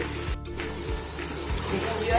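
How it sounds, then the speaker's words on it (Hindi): About two cups of water are poured into a pressure cooker of frying Peshawari namkeen gosht meat with tomatoes, a close, steady splashing stream that continues for a couple of seconds. "तो मैं अब इसके अंदर 2 कप पानी डालूंगी।"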